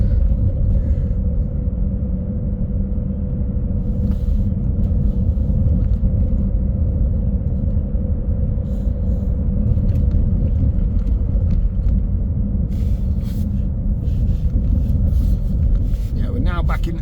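Steady low engine rumble and road drone from inside a moving bus travelling through St Anne's near Blackpool, continuous throughout with faint rattles and wind noise, no talking.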